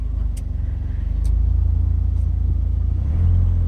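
A Ford Fiesta ST with a Whoosh Motorsports rear motor mount idles near 1,000 RPM as the AC kicks on, a steady close low rumble that deepens slightly toward the end, with no one talking.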